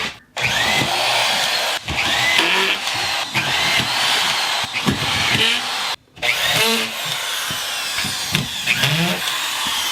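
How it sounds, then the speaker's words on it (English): A screw gun drives screws into drywall in a recording studio, a loud, close whirring buzz that runs almost continuously, with short breaks and rising pitch sweeps as each screw seats. "Let's just start, get the screw gun, I'll hold it."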